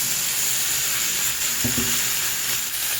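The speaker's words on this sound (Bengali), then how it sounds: "এইবার আমি এর মধ্যে যে কাঁচা লঙ্কা আর টমেটোটা কুচিয়ে রেখেছিলাম সেইগুলো দিয়ে দিচ্ছি একসাথে" Green chillies and chopped tomatoes hit a pan of frying potato and eggplant for a home-style hilsa fish curry, giving a steady, loud sizzle with a brief clatter of stirring midway.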